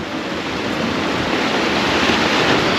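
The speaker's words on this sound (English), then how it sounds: "And the ocean." Ocean surf rolls steadily along the seafront at Mazatlan, Mexico, a loud, continuous broadband wash of breaking waves with no pauses or voices.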